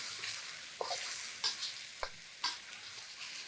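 Laksa paste with sugar and salt fries in a pan, a soft steady sizzle broken by four or five distinct scraping strokes of a spatula at roughly half-second to second intervals, close and fairly quiet.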